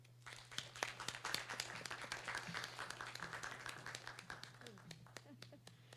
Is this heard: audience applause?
yes